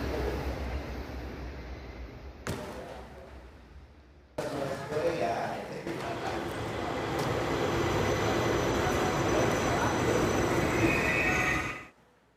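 A Jabodebek LRT driverless light rail train running, a low rolling rumble that cuts in abruptly, then a sustained loud rush of wheels and motors building and holding before stopping suddenly.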